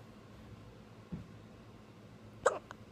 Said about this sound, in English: I think you do have hiccups.